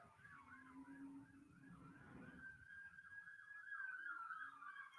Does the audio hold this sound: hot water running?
no